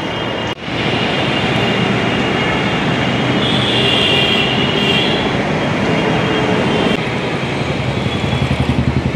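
A Kolkata metro train runs past near a station, a loud continuous rumble of wheels and rails with a high squealing tone rising midway, then easing slightly toward the end.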